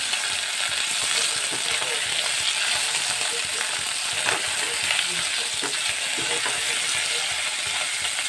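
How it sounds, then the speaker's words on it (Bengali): Potatoes frying in hot oil for a Bengali vegetarian banana-flower curry, a dense, even sizzle with faint crackles throughout, steady and close with no voices. "আলু একটু ভেজে আমি তুলে নেব"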